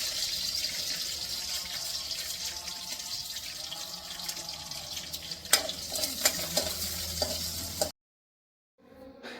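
Ginger, garlic and curry leaves fry in a pan with a soft steady sizzle and some clinks and stirring near the end, fairly faint, then a brief silence.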